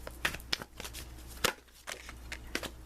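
Oracle guidance cards being shuffled and drawn, giving soft papery riffles and sharp snaps at uneven intervals, close and quiet, with no voice.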